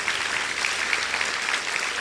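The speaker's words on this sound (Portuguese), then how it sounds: "Quem pode dar um aplauso ao Senhor por isso nessa noite" Congregation applauding during an evening church service, a dense steady wash of many hands clapping together, fairly distant and even throughout.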